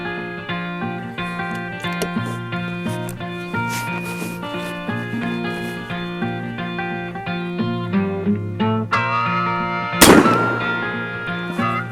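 A single sharp, loud report rings out near the end from an Airforce Texan .510 big-bore air rifle fired at max power. It cracks over a steady, tonal musical background.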